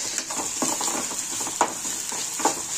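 Onion sautéing in a pan for an Indian flatbread kuskara dish, a close, continuous sizzle broken by repeated stirring scrapes and clicks of the spatula.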